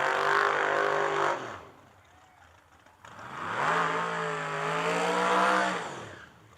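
A drag race car at the Yellow Bullet Nationals revs hard in two long bursts with rising harmonic engine pitch, separated by a brief quieter lull, loud and close with no talk.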